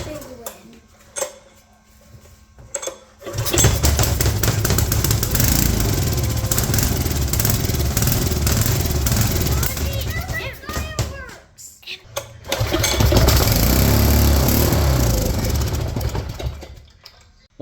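A freshly rebuilt 6hp Briggs & Stratton engine sits quiet at first, then catches and runs loud and rough, stumbling briefly near the end before picking back up, with people talking around it.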